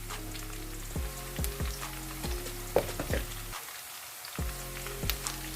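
Cumin seeds fry in hot oil in a pan, a steady close crackling sizzle with brief pauses, no talking.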